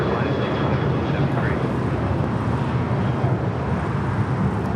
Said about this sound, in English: The 757-300 is the next departure on 25 right.